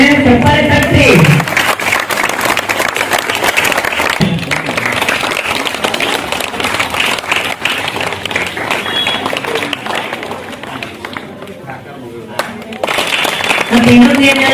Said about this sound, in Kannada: ನಮಸ್ತೆ ಚಪ್ಪಾಳೆ ತಟ್ಟಿ